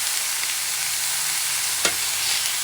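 Thin beef slices for ramen searing in a hot pan, giving a steady close sizzle with one brief sharper crackle partway through and no talking.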